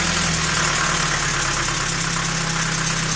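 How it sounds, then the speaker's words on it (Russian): A ZMZ 405 engine idling cold, its hydraulic lifters knocking with a steady, rapid ticking over a loud continuous engine hum, close up with no talk. "Не перестает, но гидрики барабанят."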